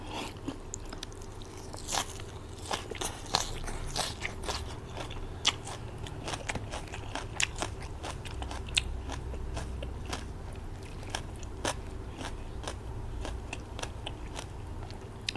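Crunchy fried food eaten with spicy papaya salad gives close, steady biting and crackling chewing, with many sharp crisp crunches repeating throughout at moderate volume.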